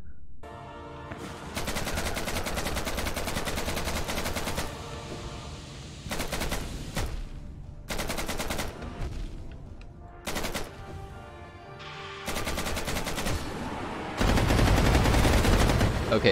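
Gunfire in the Hollow Knight Randomizer video game with guns, rapid automatic bursts in repeated blocks separated by short gaps, loud and continuous, ending in a heavier, denser volley.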